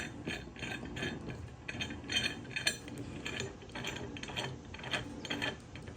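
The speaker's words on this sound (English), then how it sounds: "We're going to put this in and screw that all the way in." A BOLT lock is screwed by hand into a 1 7/8 inch trailer hitch, giving a run of close, rhythmic metallic ratcheting clicks and scrapes that repeat steadily for several seconds.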